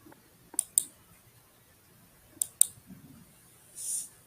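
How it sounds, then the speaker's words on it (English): Computer mouse clicking picked up over a call microphone, a few sharp clicks in two quick pairs separated by a pause, faint and close, with a low background hum and no talking. "I hear your mouse clicking."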